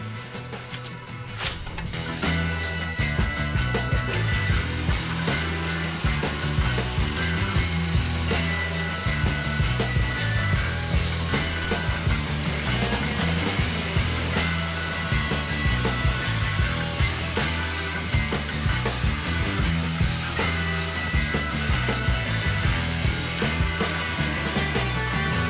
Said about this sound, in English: clamp, cut the miter on the end of the 12,